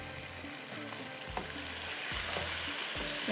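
Whole spices dry-roasting in a hot pan for tarka, a steady close sizzle with occasional soft scrapes and stirring knocks, no voices.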